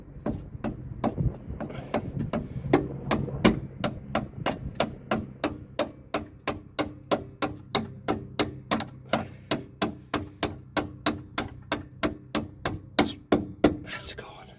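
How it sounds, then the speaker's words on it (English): A screwdriver being knocked against a Toyota Supra Mk4 rear shock gaiter to work it off, a long series of sharp, evenly spaced taps that hold a steady rhythm and grow slightly stronger toward the end. "we'll just top the rest of it out here with a screwdriver"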